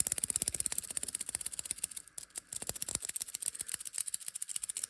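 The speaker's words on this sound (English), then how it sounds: "just take a listen to the rattle" A Watchdives GMT WD17760 watch bracelet rattles loudly and close up in a rapid, uneven metallic clatter, with a short pause midway before the jangling resumes.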